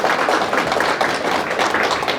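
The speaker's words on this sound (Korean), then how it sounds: "큰 박수 한번 부탁드립니다" Lecture attendees break into sustained applause, many hands clapping together in a thick, even roar that holds steady at full volume the whole time.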